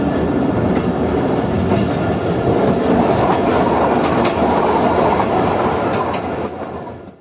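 Chaman Passenger train rolls along the track, a loud, steady roar of wheels and carriage rattle with faint clickety-clack, heard from on board and fading slightly at the end; no one speaks.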